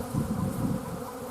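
A dense mass of bees drones inside a crowded hive, a close, steady low buzzing with slight fluctuations and no voices.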